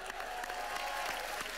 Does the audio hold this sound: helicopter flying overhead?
no